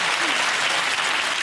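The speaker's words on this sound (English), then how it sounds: "a big round of applause for Dodd" A studio audience at a British comedy panel show breaks into loud, thick applause, a continuous wash of clapping with no pauses and no voices audible.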